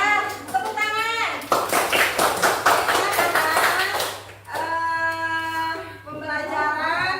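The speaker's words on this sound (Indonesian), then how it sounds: "Ya, tepuk tangan." A classroom of children clapping their hands together in a loud burst of rapid, overlapping claps, between stretches of an adult teacher talking.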